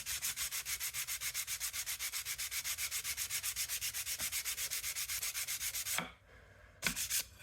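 A hand scraper works steadily across a metal surface on a Brown & Sharpe bench center, giving rapid, even, rhythmic rasping strokes up close that stop near the end, followed by one last short stroke.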